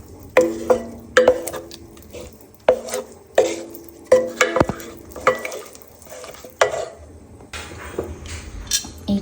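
Sago and finger millet gruel being stirred in a pot, a spoon knocking and scraping in repeated sharp strokes with a few metallic clinks, each stroke followed by a thick wet swish, close and clear with no talking.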